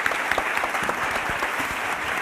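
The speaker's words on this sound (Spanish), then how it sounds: "Con un gran aplauso." A Spanish-speaking conference audience at a panel on technology and humanity applauds warmly as the panel closes: a steady, dense wash of many hands clapping for about two seconds, with no voices over it.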